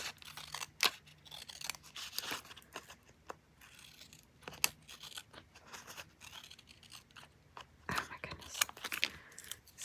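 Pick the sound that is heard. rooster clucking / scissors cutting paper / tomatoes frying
scissors cutting paper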